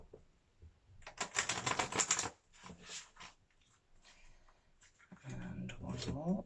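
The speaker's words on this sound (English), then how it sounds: "Give the cards a shuffle." Tarot cards being shuffled by hand at close range, two bursts of rapid riffling clatter separated by pauses, with a voice speaking softly in between and near the end.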